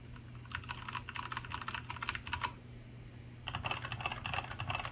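Typing on a Keychron K2 keyboard fitted with Gateron red switches and PBT double-shot keycaps, quiet bursts of rapid close keystrokes with a short pause between two runs.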